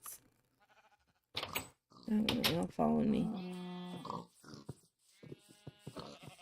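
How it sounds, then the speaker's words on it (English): Sheep bleat in the Minecraft video game, a few wavering, nasal bleats in close succession at moderate loudness, interspersed with someone talking. "I really don't need sheep."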